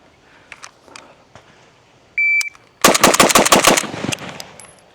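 Zastava M92 rifle firing GROM ammunition, a rapid burst of six loud close shots after a timer beep, with faint ticks before it.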